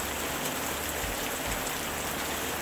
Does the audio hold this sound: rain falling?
yes